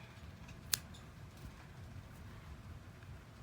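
Scissors snip through crochet yarn in a single crisp, close cut. A quiet, steady background fills the rest of the moment.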